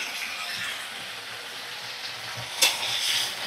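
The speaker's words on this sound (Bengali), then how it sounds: "তো দেখো সুন্দর করে আমি নাড়াচাড়া করে নিচ্ছি।" Beans sizzle and fry in a pan with turmeric and a halved green chili, a steady close hiss with a brief clatter of stirring, no voices.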